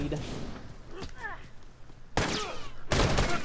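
In a multiplayer shooter, sharp gunfire cracks sound near the start, then a heavy grenade blast and more loud bangs follow in quick succession, with overlapping excited player voices.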